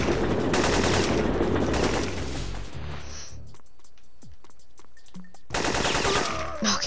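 Rapid automatic M16 rifle fire from the video game Syphon Filter rattles out in two loud, dense bursts. A quieter stretch of scattered clicks and small game effects sits between the bursts.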